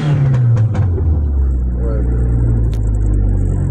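A 2005 Dodge SRT-4 engine idles while misfiring on three cylinders from a failed ignition coil, a steady, loud, close low rumble throughout with a brief voice near the start.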